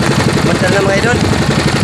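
Motorcycle engine running steadily after a restart amid a crowded religious procession in Bacacay, Albay, loud and continuous with a pulsing idle rhythm under constant crowd noise and voices.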